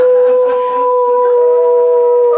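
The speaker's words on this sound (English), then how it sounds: "that meant the werewolves would howl all night" A werewolf howl sound effect: a long, sustained tonal howl that bends in pitch, loud and close, with a rough breathy start.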